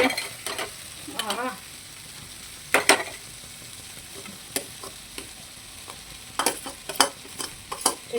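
A spoon scrapes and clanks through peas and potatoes in a cooking pan, in irregular bursts of stirring over a soft background sizzle; one brief word is spoken.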